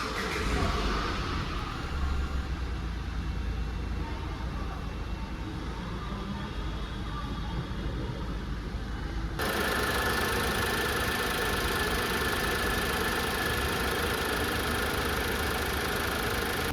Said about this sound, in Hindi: अब देखते हैं मेन इंजन साउंड प्लस